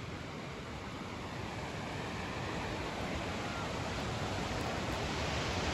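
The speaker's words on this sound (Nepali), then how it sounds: "यो भोटेकोसी खोला हो" The Bhote Koshi river rushes past in the Langtang area of rural Nepal, a dense unbroken roar of water that fills the scene evenly from start to finish, with no voices.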